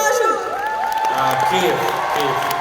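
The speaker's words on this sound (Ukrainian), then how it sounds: "Діма, Діма Жук, ваші овації!" A live stage crowd roars with sustained cheering, whoops and applause for a performer in Kyiv, loud and continuous throughout.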